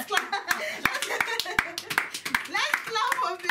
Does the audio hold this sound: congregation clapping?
yes